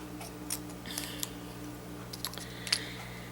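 Scissors snip through a piece of stretch cord for a beaded bracelet: a few faint, short cuts close by in a quiet room, with no talking.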